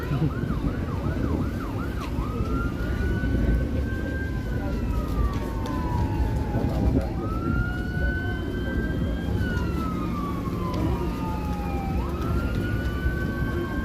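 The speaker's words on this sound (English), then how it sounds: "Lots of sirens wailing away." Several emergency sirens wail and sweep up and down continuously over heavy traffic rumble, loud and nearby, in Toronto on Canada Day.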